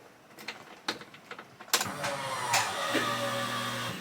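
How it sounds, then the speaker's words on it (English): Walbro 255 fuel pump in an S54-swapped BMW E30 priming: a few soft clicks, then a sudden steady electric whine that holds to the end, fairly loud and close, no voices. "That fuel pump sounds a lot more mean than the last pump."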